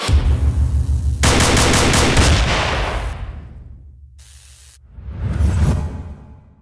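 Battlefield 1 gunfire rings out loud and close in a rapid burst, followed by a rumbling decay, a short dropout and another booming swell.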